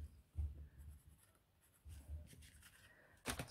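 A pencil scratches across paper in short bursts of quiet scribbling strokes, with pauses between them and a brief sharper scrape near the end.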